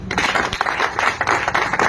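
Audience applause, dense continuous clapping from a crowd, loud and close, with slight swells in intensity throughout.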